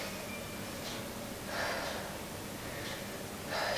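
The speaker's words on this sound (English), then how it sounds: "and we breathe here." A person stretching in a beginner pole dance conditioning workout breathes audibly, with a few short, breathy exhales or sniffs spaced roughly a second apart, close and soft against a quiet room.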